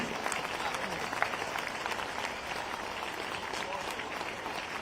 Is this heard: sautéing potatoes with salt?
no